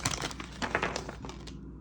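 A new, oversized deck of playing cards is handled and shuffled up close, giving a short burst of crisp crinkling, snapping and riffling card sounds with no talking.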